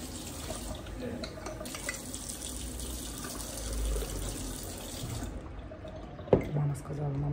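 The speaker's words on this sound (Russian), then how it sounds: "Я разбавляю с водой." Water running from a tap into a sink, a steady rushing flow that stops abruptly near the end, followed by a clunk and faint drips, with a voice speaking over it.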